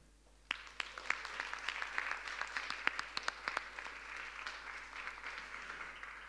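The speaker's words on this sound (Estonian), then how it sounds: "Teeme sellele IT kolledžile, sellele majale, sellele tublile meeskonnale, õppejõududele, tudengitele, vilistlastele ühe suure aplausi." Audience applause at an IT College 17th anniversary staff and partner recognition event, individual claps building into dense, moderately distant clapping that continues steadily.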